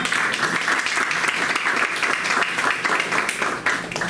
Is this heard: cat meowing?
no